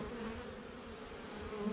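Honeybees buzz steadily and densely throughout a brief stretch of an early December hive inspection. The droning hum stays close and even, with no voices.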